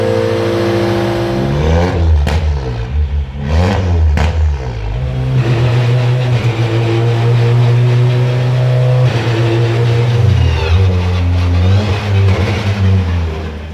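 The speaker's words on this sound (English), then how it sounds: "The cars are getting ready for the qualifying session." Touring racing cars rev their engines in the pits before a qualifying session, with loud rising and falling sweeps and a steady engine drone running throughout, no voices.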